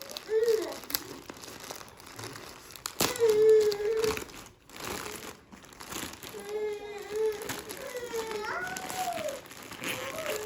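Packaging from a delivered dress crinkles and rustles as it is unwrapped, in several bursts of crackling over about ten seconds, mixed with voices talking nearby.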